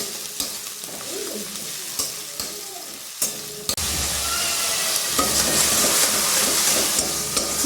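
Vegetables sauté with spices in a pan in a Bengali home kitchen, with a soft crackle and a few spatula scrapes that give way to a steady, louder sizzle for the rest of the moment.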